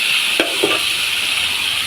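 Luffa gourd and pork stir-frying in a pan give a steady close sizzle, broken by two quick spatula scrapes and stirs.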